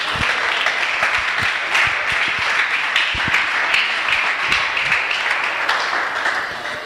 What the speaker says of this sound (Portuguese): A igreja deu uma linda salva de palmas para Jesus.